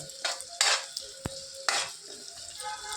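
Ginger and onion being stirred with turmeric powder in a hot pan, a utensil scraping in a few short bursts over a soft sizzle, with one sharp click of metal against the pan.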